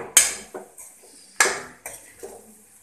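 Metal spoon stirring keri gunda (lesoda) vegetable curry in a pan, several distinct scraping clinks against the pan at an uneven rhythm, close and fairly loud with no talk.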